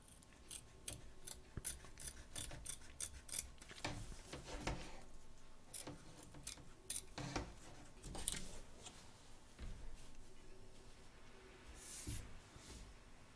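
Scissors snip around the edge of an embroidered fabric piece freed from its hoop, a run of short, crisp cuts in quick succession, close and fairly quiet, with brief pauses between strokes.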